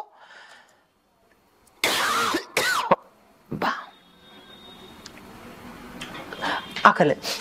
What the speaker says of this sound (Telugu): ఈ దగ్గు కూడా ఎడిటింగ్ లో వేయకండి